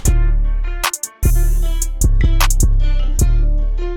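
A guitar melody drenched in effects rings over a hip-hop trap beat with heavy sustained bass, crisp hi-hats and snare hits and a short gap midway, loud and close with no voices.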